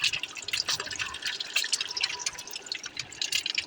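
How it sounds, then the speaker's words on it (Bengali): Eggs fry in a pan, browning as they cook, with a close, crackling sizzle of rapid irregular pops and spits. The sound is moderately loud and continuous, and no one speaks. "এখন ডিমটা লাল লাল করে ভেজে নিচ্ছি"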